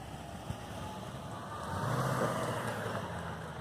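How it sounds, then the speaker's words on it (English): A truck passing on a road outside, its broad engine rumble swelling to a peak midway and then slowly fading, with no talk. "let's just let the truck pass."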